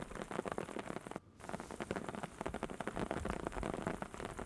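Heavy rain with hail pelts a surface in Beed, a dense crackling patter of many drops and sharp impacts, continuous and close apart from one brief break.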